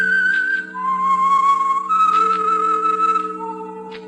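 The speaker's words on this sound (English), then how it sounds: "That whistle is your signal for the Signal Oil program, The Whistler." A whistled theme melody opening The Whistler old-time radio program, a clear solo tune of sustained pitches stepping down and up, loud and close over a steady low organ-like drone, with no talk.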